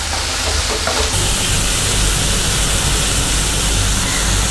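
Chana dal (kadalai paruppu) with chilli and coriander powder cooking in a pot, a loud dense steady hiss and bubbling wash that continues without pause.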